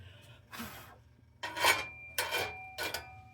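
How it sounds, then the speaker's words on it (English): Corn tortilla dough scraped off a surface in a home kitchen, four short, close rasping strokes separated by brief pauses. "Scrape that off."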